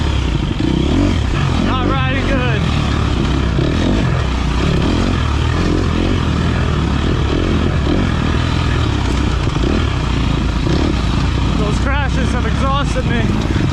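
Off-road motorcycle engine in a NETRA/CATRA Black Fly enduro race in the woods, loud and close throughout with rising and falling revs and clattering over rough ground.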